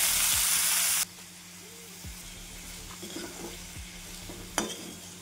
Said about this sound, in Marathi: टमाटर भाजून घेऊ.